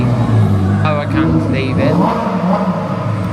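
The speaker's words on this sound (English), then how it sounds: "There's a couple of Lamborghini Huracans leaving, making a lot of noise." A couple of Lamborghini Huracans leave a car show, their engines revving loud and near under a steady roar, while people talk over the noise.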